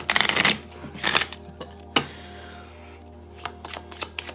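A small tarot deck is shuffled in several crisp riffling bursts close by, with quieter card taps and handling between them and no voices.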